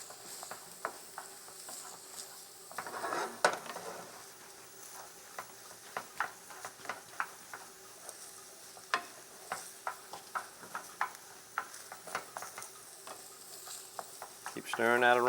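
Stuffing stirred and frying in a pan for baked shad with shad roe stuffing, a low steady sizzle under repeated close scrapes and taps of a utensil against the pan, with a few louder stirring bursts.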